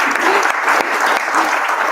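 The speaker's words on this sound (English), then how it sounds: "So maybe we can give her a round of applause." Dense, loud audience applause for an awardee honored by the URI Foundation, a steady wash of many hands clapping throughout with no pauses.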